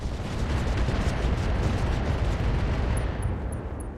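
In the video game RogueTech, a mech fires AX rounds and explosions follow as a dense, continuous roar of blasts and booming fire that stays loud throughout, with faint high pings near the end.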